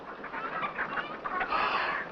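A brown hen clucking in a farmyard, a busy run of close, overlapping clucks and short calls that grows a little louder toward the end, with no talk over it.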